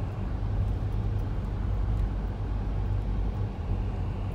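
Interior of a car driving through Eustis, Florida, a steady low road rumble and engine drone that holds even and moderately loud throughout, with no voices.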